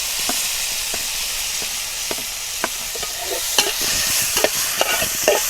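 Chopped tomatoes stirred into softened onions frying for pepper chicken, a steady broad sizzle with repeated scraping taps of a spoon against the pan, close and fairly loud, no voices.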